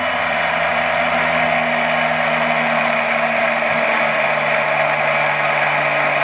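A DC machine running as a motor under brake load gives a steady, loud mechanical whir with a constant electrical hum, unchanging for several seconds with no voices.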